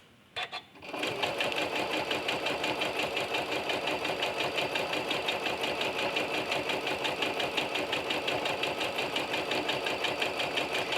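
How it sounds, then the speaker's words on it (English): A sewing machine fitted with a walking foot stitches quilted fabric in a steady, fast mechanical whir with rapid even needle clatter, running close and loud for the whole stretch after a brief start. "You'll notice that I'm guiding the fabric through the machine."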